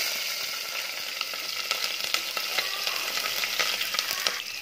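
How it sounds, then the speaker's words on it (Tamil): Fennel, onion, green chili and curry leaves fry in hot oil for chicken kurma, a dense continuous sizzle with light crackles and occasional stirring clicks, close and steady, no voices. "கருவேப்பிலை நல்லா வதங்கட்டும்."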